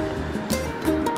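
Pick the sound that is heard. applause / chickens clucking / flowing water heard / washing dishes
flowing water heard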